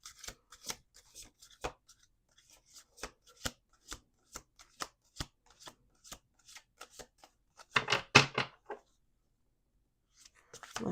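Playing cards being shuffled on a table, a series of crisp riffling and tapping bursts spaced through the clip with a denser riffle near the end, close and quiet with no talk.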